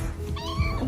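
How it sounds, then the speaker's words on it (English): A short, close cat meow with a rising, wavering tone, heard once against a quiet indoor background. "are those kitty cats?"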